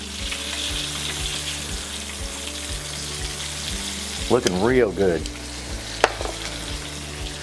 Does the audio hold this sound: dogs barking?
no